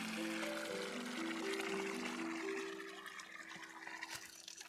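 Water running and filling a container in the video game Wanderstop, a steady rushing flow with a rising pitched tone, loud at first and gradually thinning out toward the end, with no one talking.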